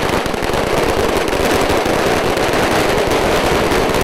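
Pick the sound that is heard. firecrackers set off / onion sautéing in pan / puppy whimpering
firecrackers set off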